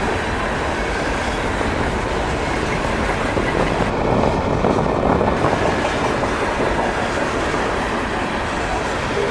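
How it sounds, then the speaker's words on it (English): A commuter train rolls steadily past at close range in Dorval, producing a continuous loud rumble and rattle of wheels on rails for several seconds with no talk. "That's great timing considering I'm waiting for my commuter train there."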